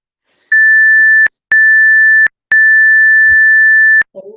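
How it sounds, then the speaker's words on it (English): Workout interval timer beeper sounding three loud, steady electronic tones, the first two about three-quarters of a second each and the last about a second and a half, separated by short gaps, with no talk over them. "I'm really hoping that you're hearing the beeper this time."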